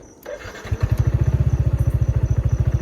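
A Yamaha N-Max155 scooter, a police unit with an ABS warning light fault, cranks briefly and catches, then settles into a loud, close, rapidly pulsing idle with an even mechanical rhythm.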